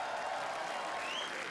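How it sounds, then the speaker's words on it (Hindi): Studio audience at a roast battle comedy show applauds steadily and fairly softly for the next act, a dense even patter with faint crowd murmur and a rising whistle near the end. "तालियां प्लीज।"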